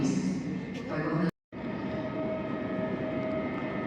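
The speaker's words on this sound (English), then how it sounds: "here's my favorite train again, the Intercity PKP" An Intercity PKP passenger train rumbles along in Poland, heard from on board as a steady low rolling roar with a brief drop to near silence partway through, after which the rumble resumes.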